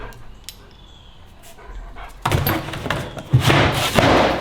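A dog barks and thumps near a mailbox, loud bursts of barking and thuds following a quieter stretch, close by with some background activity.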